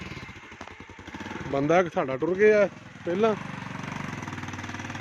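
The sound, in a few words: motorcycle engine while riding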